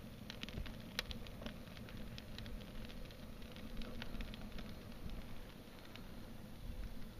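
Dry wood burning in a rocket stove, a faint, steady crackle with scattered small pops over a low rumbling draft and background hiss.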